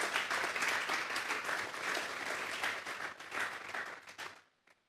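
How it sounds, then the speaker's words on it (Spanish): A church congregation applauds for the Lord during a sermon, steady mid-distance clapping lasting several seconds before quickly fading out, with no talking over it. "Vamos a darle un fuerte aplauso pues al Señor."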